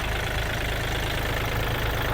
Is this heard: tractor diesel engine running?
yes